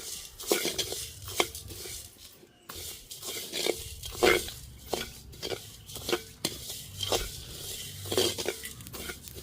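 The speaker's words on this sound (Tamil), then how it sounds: "இவ்வளோத்தையும் போட்டு வறுப்போம் கைவிடாமல் கிளறிக்கொண்டே இருப்போம்" Cumin, pepper and fenugreek dry-roast in a pan while being stirred constantly, giving a run of close, irregular scraping and tapping strokes of a spoon against the metal, with a faint crackle beneath.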